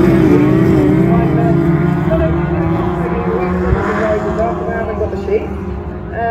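Class 2 race cars in a field at the Border Counties festival pull away and race, producing a loud continuous engine roar under an excited commentator's voice.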